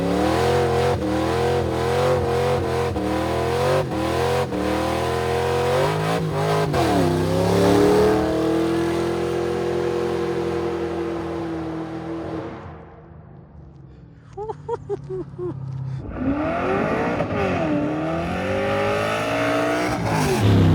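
A Chevrolet Camaro SS engine revs hard through rising gears while driving, loud and close, with shifts audible, then eases off to a lower idle-like drone before accelerating again.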